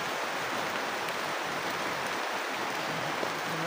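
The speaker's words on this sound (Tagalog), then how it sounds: "Umuulan." Steady rain pours outdoors in a continuous, dense hiss that fills the whole stretch evenly, close and enveloping with no breaks or talk.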